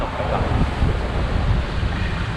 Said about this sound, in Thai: ฝนทั้งลมนะครับทั้งคลื่นนะครับ